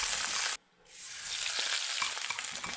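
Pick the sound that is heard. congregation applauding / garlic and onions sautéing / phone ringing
garlic and onions sautéing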